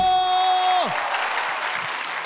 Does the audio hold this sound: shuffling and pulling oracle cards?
no